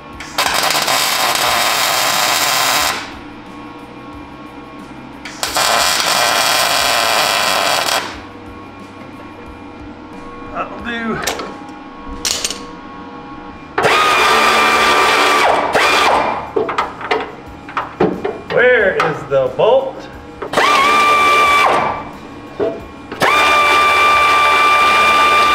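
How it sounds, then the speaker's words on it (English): Welding custom body mounts on a Ford dentside truck: loud bursts of buzzing, crackling welder noise come in several runs of a few seconds each, separated by quieter clanks and handling sounds. "we're gonna go ahead and weld, see how she goes"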